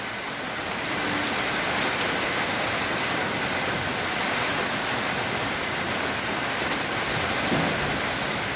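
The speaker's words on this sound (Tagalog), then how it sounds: "Malakas ng ulan talaga." Heavy rain with strong wind pours down in a steady, dense hiss, loud and unbroken throughout with no voices.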